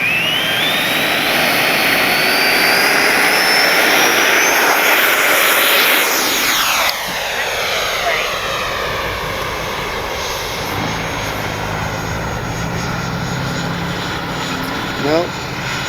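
An FMS 70mm Yak 130 RC jet's ducted fan whines and rises in pitch at full power for takeoff, loud and close, then fades as the plane climbs away, with a voice talking over it.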